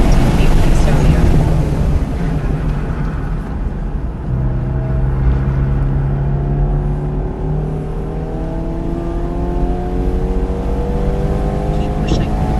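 A race car runs at full throttle during an SCCA time trial at ECR, its engine droning loudly and steadily from inside the car, pitch climbing through the gears in repeated sweeps.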